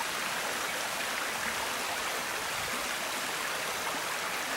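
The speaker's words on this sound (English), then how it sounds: "Here is the waterfall." Waterfall in the Honey Creek area of Sauk County in winter, a steady close rushing roar of falling water with no pauses and no voices.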